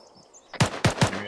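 Three sharp rifle shots crack in quick succession in the military shooter ArmA 3, close and loud, each with a short echoing tail after a quiet start.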